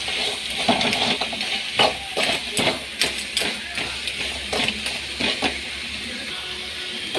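Crab pieces sauté with ginger garlic paste in a pan, giving a steady sizzle under a quick series of close spatula taps and scrapes against the metal.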